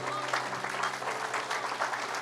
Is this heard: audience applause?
yes